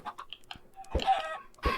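Several short clucks and squawks from Minecraft chickens, a couple of louder bursts standing out in otherwise quiet surroundings.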